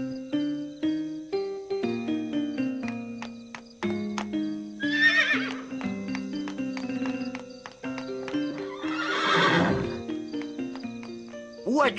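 A cartoon horse whinnies loudly twice over a bright orchestral music score, with a quick clatter of hooves in between, the sounds set in a French animated musketeer adventure.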